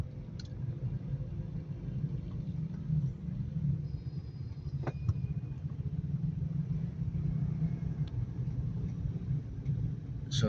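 Steady low engine rumble of city traffic on Bilis Street in Cagayan de Oro, heard from inside a vehicle, with passing cars and motorcycles, one brief sharp click midway, and no talk.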